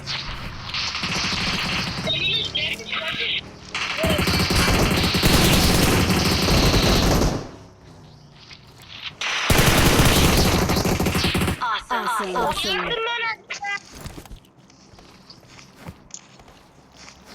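Gunfire in a multiplayer shooter video game comes as two loud sustained bursts of rapid shots, separated by quieter stretches with footsteps and brief voices talking.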